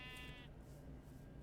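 A Minecraft sheep bleats once while being sheared, a short nasal cry at the start followed by a steady background hum.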